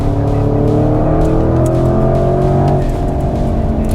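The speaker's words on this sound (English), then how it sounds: "Just drive slowly and enjoy the soundtrack of the engine." A Porsche Cayenne engine pulls hard and climbs in pitch, loud and close from inside the car on the Sepang circuit. A gear change breaks the rise partway through, and no one speaks.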